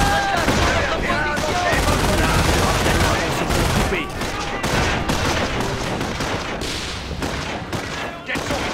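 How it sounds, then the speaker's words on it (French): Rapid machine gun fire in the WWII strategy game Company of Heroes, dense overlapping bursts and shots running continuously, with faint in-game voices underneath. "Mitrailleuse prête."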